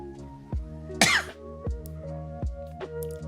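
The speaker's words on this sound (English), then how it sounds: "Still a slight cough," A person coughs and clears their throat several times at close range, with a sharp, loud burst near the middle and shorter hacks spaced around it over a steady background hum.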